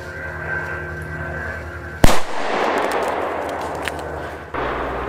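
A Catan Thunder Crackers D-Böller from 2019 production, 3.6 grams, bursts in one sharp, powerful outdoor blast with a rolling echo trailing off, then a quieter, steady background.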